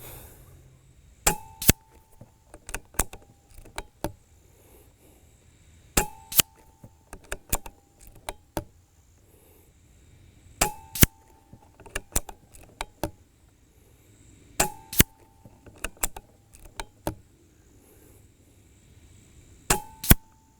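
An air rifle fires H&N Barracuda 10.65 grain pellets, five sharp cracks spaced several seconds apart, each followed by a quick metallic ring and faint clicks of handling in a quiet setting.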